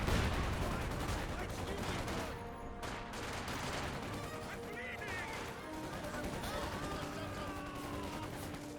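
Tank gunfire aimed at a Panzer IV in a Company of Heroes 2 battle, faint continuous combat with scattered shots and impacts under a commentator's steady talk.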